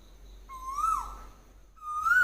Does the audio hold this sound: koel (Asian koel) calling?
yes